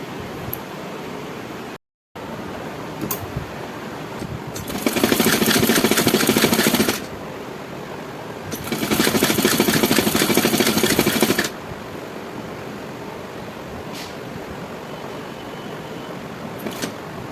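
Sewing machine stitching the middle fold seam of palazzo pants, running in two steady bursts of about two and three seconds each with a quieter pause between.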